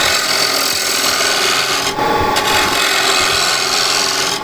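A wooden plate turns on a lathe while a tool blends the curve at its foot, giving a continuous loud rasping scrape with a short duller break midway.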